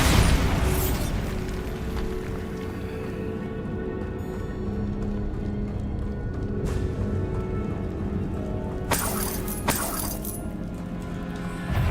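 A Bombarda spell blast in the video game Hogwarts Legacy: a loud booming explosion with a long rumbling, crackling tail, then sharp impact bursts later on.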